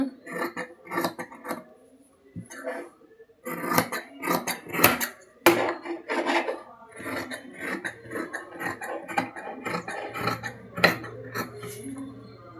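Scissors cutting 32-size blouse fabric on a table, with a run of close, crisp snips and clicking blade sounds in uneven bursts, paused briefly partway through, and no speech.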